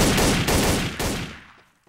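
A loud, close burst of rapid gunfire from a video game, with several heavy shots landing in quick succession before the sound fades out over the final half second.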